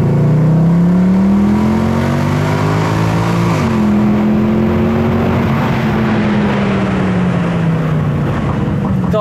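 Warmed-up car engine held at a steady rev with a droning exhaust note. The pitch dips slightly partway through, then rises and eases again, loud and close throughout.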